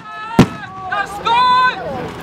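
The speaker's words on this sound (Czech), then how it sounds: "Vystrelil dielo." A cannon fired at a military open day gives a single sharp, loud boom near the start, followed by people talking close by.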